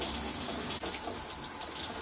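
Shower water runs steadily and fairly loud, a continuous spray with no pauses.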